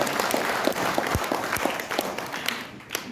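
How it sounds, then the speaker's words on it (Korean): Applause from a crowd at a political rally welcoming a guest onstage, a steady patter of clapping with a few sharper claps and some voices and cheering mixed in, fading slightly at the end. "박수로 맞이해 주시기 바랍니다"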